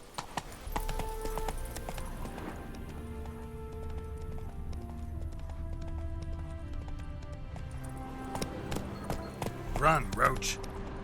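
Roach, the horse in The Witcher 3, gallops with quick rhythmic hoofbeats under game music, building toward a louder flurry near the end.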